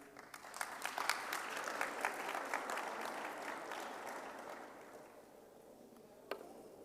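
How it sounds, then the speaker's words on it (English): Conference audience applause after a speech, a steady wash of clapping from many hands that holds for several seconds before thinning out, with one last sharp clap near the end. "Let's give him another round of applause, please."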